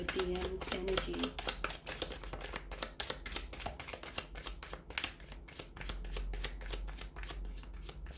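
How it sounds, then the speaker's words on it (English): Tarot cards being shuffled in repeated quick riffles and soft slaps close by, a steady papery flutter with faint background hum and no speech over it. "we'll go ahead and give the cards a shuffle"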